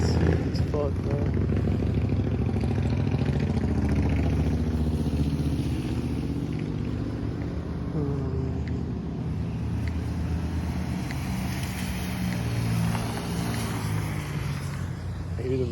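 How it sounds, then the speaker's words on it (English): A motorcycle passes on a street outside, a low continuous engine rumble heard under nearby conversation. "I hear the motorcycle right now."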